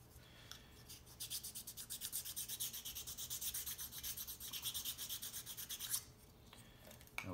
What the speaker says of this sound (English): I do need to wax sand this surface and this surface.